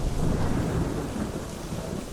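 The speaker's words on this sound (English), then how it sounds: "while standing in the middle of a thunderstorm" Thunderstorm with steady rain in the game Fallout: London, a low rolling thunder rumble under continuous hissing rainfall, fairly close and even throughout, with no voices.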